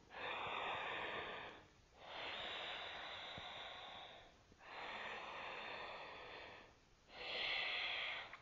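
Ujjayi breaths drawn through the nose with a constricted throat give a soft, airy rasp in four long, even strokes separated by brief pauses, close and quiet with no talk, during a beginner vinyasa yoga practice.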